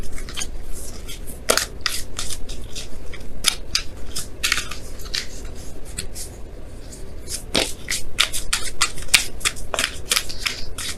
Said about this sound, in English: I'm going to pull you guys your Romance Angels card here